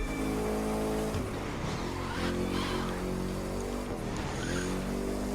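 Car racing in The Crew 2 video game, set in Las Vegas: a steady, droning engine note rises and falls through gear changes, with tire noise and a close, constant roar.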